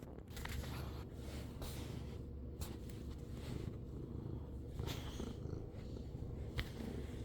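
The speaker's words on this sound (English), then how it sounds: "Just a little kitty cat." Close, steady purring from a pet cat fills the clip as a low continuous rumble, broken by brief rustles and taps as it rubs against something.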